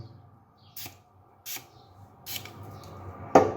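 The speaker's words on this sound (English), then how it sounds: "I'm going to use barber spray." Four short, separate bursts of barber spray on a beard, each a quick hiss about a second apart, close and fairly quiet.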